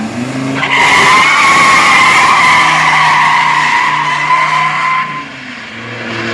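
A turbocharged Ford pickup truck launches at full throttle in a 402 m drag race, with a screeching tire squeal and roaring engine, rising sharply then cutting off after about five seconds.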